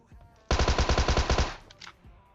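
A burst of rapid Tommy gun fire in the video game PUBG Mobile, about ten close, loud shots in quick rhythm, followed by a few fainter clicks and movement sounds.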